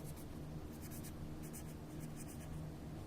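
A pen scratches steadily on paper during a Class 10 maths lesson. The writing is faint and continuous, with soft strokes over a quiet background hum.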